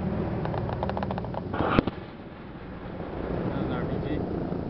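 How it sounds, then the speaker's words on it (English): A cannon fires nearby, one sharp boom cutting through steady background rumble and wind noise before things settle again. "No, that was one of the cannons."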